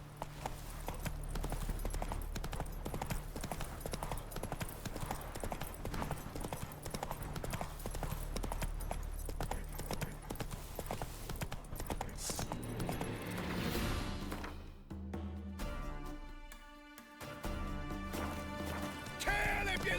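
Steady clip-clop of a horse's hooves at a brisk trot in the video game The Witcher 3: Wild Hunt, continuous and close over game sounds, with a brief dip and shift near the end.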